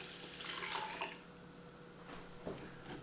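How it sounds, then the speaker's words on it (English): A couple of cups of water are poured into a rice cooker holding rice and broken-up bouillon, giving a brief trickling splash early on, then quieter drips and a second short pour near the end. "And then I've got a couple cups of water."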